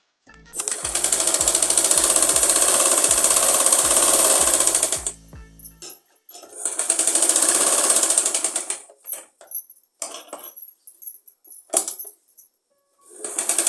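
A sewing machine runs a fitting seam on a child's umbrella frock, whirring steadily for about five seconds, then stitching again in a shorter burst, followed by scattered clicks and handling noises.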